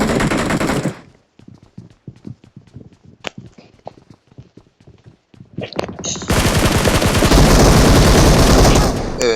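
Rapid automatic gunfire in the mobile battle-royale game PUBG Mobile, with a loud burst at the start, scattered single shots and footsteps in between, then a long sustained volley near the end.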